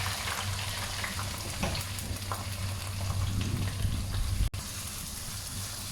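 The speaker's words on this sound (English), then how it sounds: "Okay, first we put in the oil, let it come to a medium heat. Then we put the onion first." Onion frying in oil over medium heat for a festive chicken biryani, a dense continuous sizzle up close with occasional stirring scrapes and a brief sharp break near the end.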